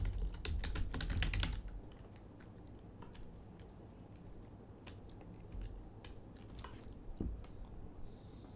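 Computer keyboard typing, a quick flurry of close key clicks at first and then scattered softer taps over a quiet background.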